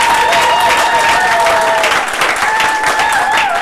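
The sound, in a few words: applause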